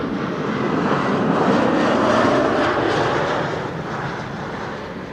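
A German Airways aircraft operating for KLM Cityhopper at Amsterdam Schiphol passes with a continuous engine roar that swells in the middle and then fades somewhat, heard alone.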